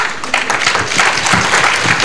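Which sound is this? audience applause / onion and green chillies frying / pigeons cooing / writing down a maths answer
audience applause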